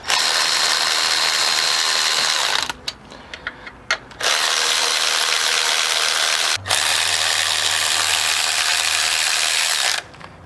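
A ratchet runs bolts into the aluminum block on a Mazda 3 torque mount, with loud continuous clicking bursts broken by short pauses and a brief low hum.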